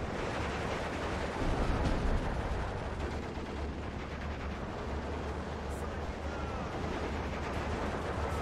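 Incoming gunfire and artillery in the WWII strategy game Steel Division 2, in a Soviet campaign battle at Iasi: a dense, continuous roar of overlapping shots and blasts that holds steady throughout, with no clear voices.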